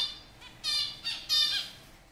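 A single bird repeats a nasal, bleating contact call meant to keep in touch with its partner or group, giving about three short squawks in quick succession, fairly clear and close with no talking.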